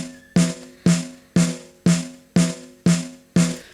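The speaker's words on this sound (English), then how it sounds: "So if we listen to that recording from a snare top microphone, it would sound like this." A snare drum captured by a snare top microphone, struck seven times at a steady, even pace. Each hit is sharp and loud, with a short ringing decay and nothing else in between.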